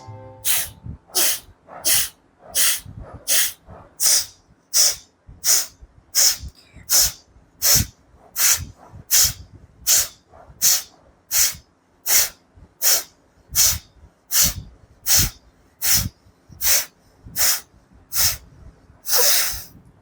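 Sharp, forceful Kapalbhati exhalations are pushed through the right nostril alone, a steady train of about twenty-five loud, close breathy bursts evenly spaced with brief pauses between, and no talking.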